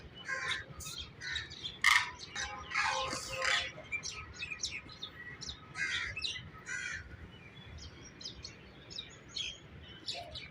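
Birds at Bahawalpur zoo, where peacocks and ducks are kept, call repeatedly in loud chirps and squawks close by. The calls come in bursts with short gaps over a quiet background.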